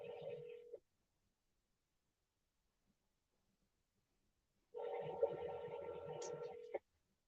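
Telephone redial tones sound as two bursts of tone: a short one at the start, then a long quiet gap, then a longer burst of about two seconds near the end.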